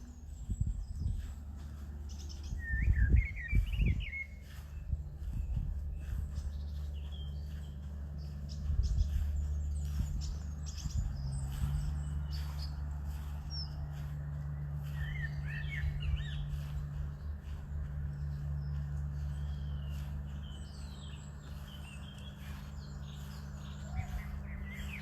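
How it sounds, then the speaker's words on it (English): Morning birdsong in a curated garden in Regent's Park, London: scattered high chirps and short trills, some near and some farther off, over a low steady rumble of distant background noise. "it is the best soundtrack to the morning, as nature's called. The bird song is quite simply superb."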